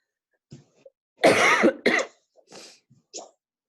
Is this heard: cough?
yes